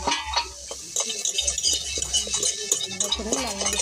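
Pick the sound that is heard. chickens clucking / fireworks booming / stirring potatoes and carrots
stirring potatoes and carrots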